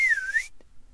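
A single short whistle from a person, a clear bright note that rises and dips for about half a second, followed by quiet.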